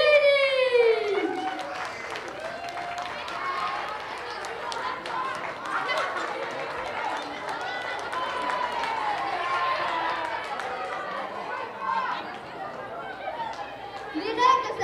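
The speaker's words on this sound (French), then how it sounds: "Et une grande main d'applaudissements pour votre équipe d'enseignants" An audience applauds a team of teachers introduced on the stage of a quiz game show event, a dense wash of clapping and crowd noise that holds steady throughout, with a host's voice heard briefly over it.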